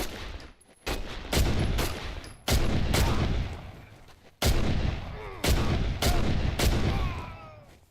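Repeated loud gunshots from a firearm in the horror video game Condemned: Criminal Origins, about eight sharp blasts spaced unevenly, each with a booming tail, no talk.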